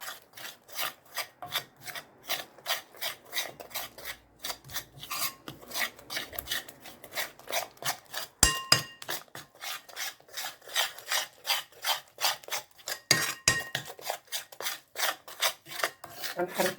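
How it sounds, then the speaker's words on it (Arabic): Flour mixed with eggs, spices and a little salt being stirred briskly in a bowl, giving a steady run of dry, rasping scrapes in quick rhythm, close and fairly loud, with no talking. "غنبقى نحرك هاد الدقيق مزيان هكا"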